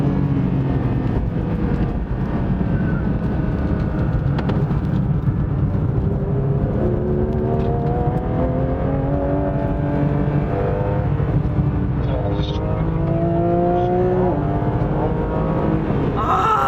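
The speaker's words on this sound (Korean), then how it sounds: "진짜 이 업시프트, 다운시프트 될 때 이 느낌이 진짜 난리 났다" A Porsche 911 GT3 on a track day, its engine and exhaust droning loudly and continuously from inside the car, with rising and falling pitch as it works through upshifts and downshifts.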